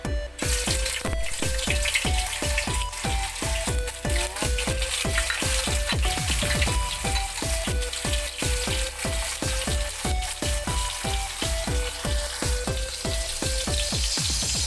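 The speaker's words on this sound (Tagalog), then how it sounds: "Ilagay na natin yung tokwa, prituhin muna natin bago natin gisahin." Tofu fries in cooking oil in a pan with a dense, continuous crackling sizzle. It stays steady and loud at close range with no voices over it.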